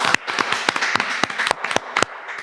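Hand clapping from people at a Maluku musicians' podcast session, a brisk burst of sharp, uneven claps running the whole moment with a faint murmur of voices underneath.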